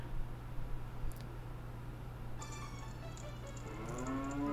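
In Zelda Ocarina of Time, a cow moos once in a low, rising call near the end, over a steady game hum and soft chiming tones.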